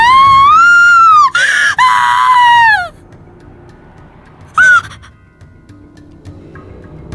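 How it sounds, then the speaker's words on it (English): A loud, piercing scream from the horror video game Corpse Party rises and wavers for nearly three seconds, then breaks off; after a short quiet gap a second, brief shriek cuts in before the sound drops to faint background. "a scream forced its way out from inside my body, from the very pit of my stomach"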